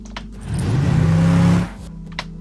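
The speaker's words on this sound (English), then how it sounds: "you hear the car entering on the right, and then you hear the sound balancing in to the center" A designed car pass-by, a single loud rising engine whoosh that swells for about a second and then cuts off, with faint clicks before and after.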